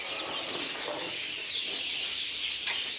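A bird calls repeatedly over a steady high-pitched background of insects or ambient noise, moderately distant.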